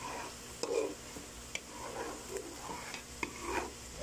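Latik, coconut curd, frying and browning in a pan, with a soft continuous sizzle and occasional scraping stirs, fairly quiet and close, while someone talks.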